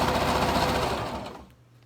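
While a fabric face mask is sewn, a sewing machine runs fast and loud close by, then slows and fades to a stop after about a second and a half.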